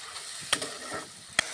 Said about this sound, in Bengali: আর গ্যাসের আঁচটা কিন্তু একটু কম রেখেই কিন্তু ভালো করে কষিয়ে নিতে হবে।